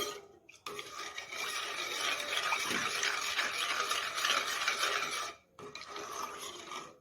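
Masala tea being stirred in a pot gives a steady, close rasping scrape that runs for several seconds, briefly pauses, then resumes.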